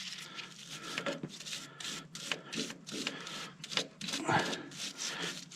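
Threads on a tie rod end of a Silverado 2500 Duramax are scrubbed, probably with a wire brush, giving repeated rhythmic rasping strokes, close and moderately loud, with faint talk in the background.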